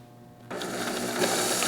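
A sewing machine starts after a short quiet moment and runs a quick burst of stitches through the fabric of a teddy bear, a close, even mechanical whir.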